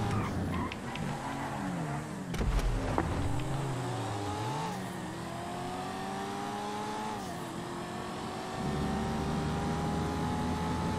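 A roaring American car engine in a GTA Online race, a video game, revs and shifts through rising and falling tones, holding steady and fairly close with no talk over it.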